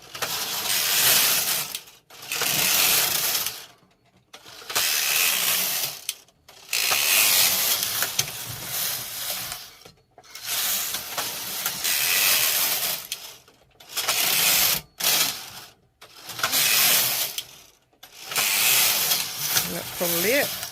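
A Brother knitting machine carriage is pushed back and forth knitting lace rows, each pass a loud rattling, clicking mechanical sweep lasting about two seconds with short pauses between rows.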